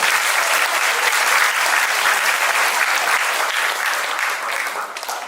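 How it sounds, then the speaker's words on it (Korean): Students at a school fire-drill and awards ceremony give a big round of applause, dense sustained clapping from a large crowd filling the hall, thinning out and tapering off in the final second. "용감한 활동을 해준 우리 친구들에게 다시 한번 큰 박수 한번 부탁드려요"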